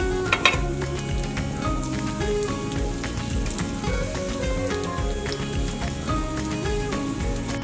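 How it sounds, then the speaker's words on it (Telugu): Raw banana slices fry in a few spoons of hot oil on a flat tawa pan, a steady dense sizzle like rain on a surface, close and continuous, with an occasional soft knock early on. "ఒక ఫ్లాట్ పెనం తీసుకొని అందులో నేను 2-3 స్పూన్స్ ఆయిల్ వేసి కొంచెం కాగాక ఇలా ముక్కల్ని వేయాలి"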